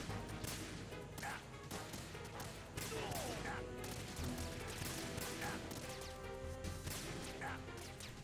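Rapid gunfire in Metal Gear Solid 2 against soldiers with riot shields, dense bursts of sharp shots and impacts packed closely together at a loud, sustained level, with crashes scattered through the volley.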